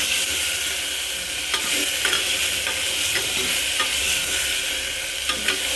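Chopped tomato and onion sizzle steadily in a hot pan while a spoon stirs through them in repeated scraping strokes, close up with no voices.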